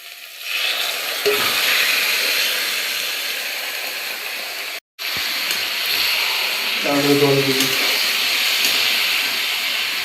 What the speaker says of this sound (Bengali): এইবারে ম্যারিনেট করা মাংসটা দিয়ে দিচ্ছি।